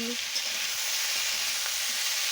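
Chopped green chili stir-fried in a pan with cauliflower stalks and eggplant gives a steady, loud, close hiss of sizzling oil, continuous throughout with faint stirring bumps and no talk.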